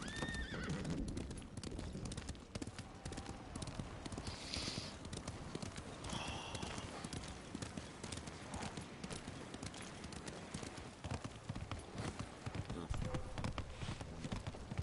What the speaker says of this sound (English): they just let the horse trot right off